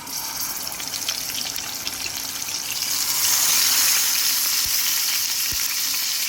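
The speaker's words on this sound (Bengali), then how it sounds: "মাছগুলো ভালো করে ভেজে নিব" Rohu fish pieces rubbed with salt and turmeric fry in a hot pan, giving a steady loud sizzle that grows louder midway, with a couple of sharp knocks near the end.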